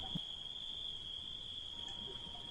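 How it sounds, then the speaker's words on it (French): Crickets chirp at nightfall over fields, a steady high continuous trill from many insects blending into a faint, even night background with no voices. "Tombée de la nuit, les cigales s'endorment au chant des grillons"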